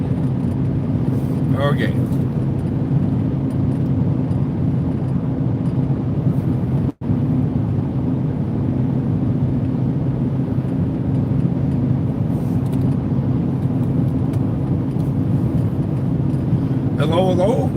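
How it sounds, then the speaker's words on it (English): Car cruising along the Trans-Canada Highway in northwestern Ontario, a steady low road-and-engine drone filling the cabin throughout, with a brief word spoken and faint chimes at the edges. "I'm driving part of the Trans-Canada Highway in northwestern Ontario"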